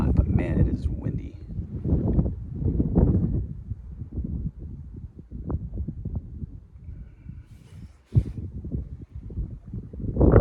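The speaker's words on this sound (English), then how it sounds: "not a bad spot, but man, it is windy." Strong wind gusts into the microphone in a Texas canyon during a solo mule deer hunt, thumping in irregular low bursts while someone speaks over it nearby.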